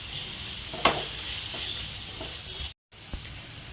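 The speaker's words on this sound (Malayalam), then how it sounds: "ഇനി നമുക്കിതൊന്ന് നന്നായിട്ടൊന്ന് ഇതിൻ്റെ പച്ചമുളക് പൊടികളുടെ പച്ചമുളക് മാറുന്നവരെ ഒന്ന് ഇളക്കി കൊടുക്കാം" Spice powders and green chili stir-fry in a hot pan with a soft, even sizzling hiss. A few light scrapes of the spoon mark the stirring, and a brief gap of silence falls near the end.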